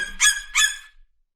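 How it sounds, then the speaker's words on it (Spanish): Two short, bright honking bird calls in quick succession, clear and close, then silence; presented as an eagle call. "Águila."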